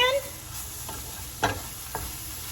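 Bacon being stirred into fried cauliflower rice in a hot pan: a steady sizzle with a few distinct scraping clinks of the utensil, close up and without talk.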